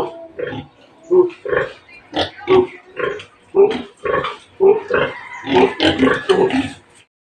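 Large pigs on a rural property grunt in a steady run of short, close, fairly loud bursts, about a dozen in quick succession with brief gaps between them.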